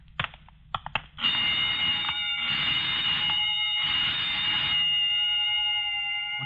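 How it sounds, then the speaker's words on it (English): A burglar alarm under test gives a few sharp clicks, then a loud, shrill electronic tone that pulses on and off over several seconds and then holds. "just testing the burglar alarm, I guess"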